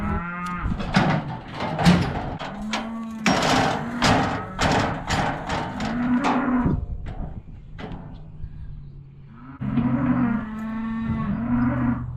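Calves low and moo repeatedly while being worked and given vaccination shots, several overlapping bellows from close by with occasional thuds in between.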